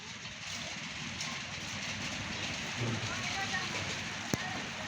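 Rain beginning to fall, a steady broadband patter and hiss on surfaces outdoors, close and continuous, with a single sharp knock near the end.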